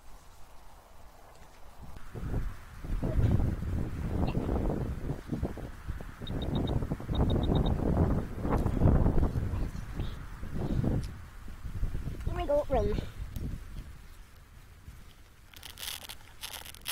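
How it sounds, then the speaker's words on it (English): Gusty wind buffets the microphone at an outdoor model-aircraft flying field, with loud uneven rumbling bursts that rise and fall, and a few faint thin sounds scattered through. "Oh, this wind's all over the place."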